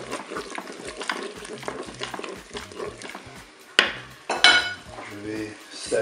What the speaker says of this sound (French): Je vais maintenant ajouter les olives.